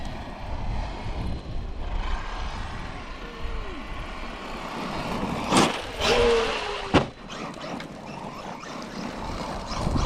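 A Traxxas Maxx Slash 6s RC truck drives outdoors, its motor whining under steady wind-like rumble, with a couple of sharp bursts and a rising electric whine midway as it accelerates.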